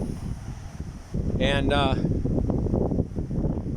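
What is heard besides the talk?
strong wind blowing on oceanfront, wind noise on microphone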